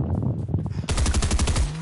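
Rapid bursts of automatic gunfire from a video game duos match, loud and close, with scattered shots early on giving way to a dense rattling volley in the second half.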